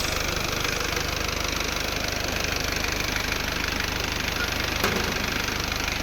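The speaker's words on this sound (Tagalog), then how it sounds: "Yan po yung makina niya. Diesel yan mga ma'am sir." A diesel engine on a Mitsubishi Montero Recon idles close by with a steady, rattling knock and constant low drone, with no other sounds standing out.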